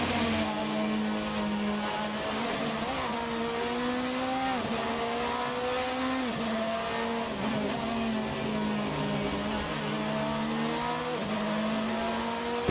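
A Lamborghini race car roars through a Donington Park endurance race in a racing video game, its engine droning steadily and loudly with repeated gear shifts and rising revs throughout, alone without talk.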